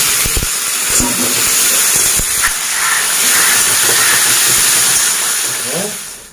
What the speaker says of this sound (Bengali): পাঁচ ফোড়ন শুকনো লঙ্কা ফোড়ন দিয়ে